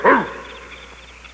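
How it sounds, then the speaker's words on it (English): A big, ferocious hound dog in a forest lets out one loud, close bark that fades quickly into a quiet, slightly echoing tail. "out from behind a bush jumped Major, one of the biggest, most ferocious hound dogs in the forest"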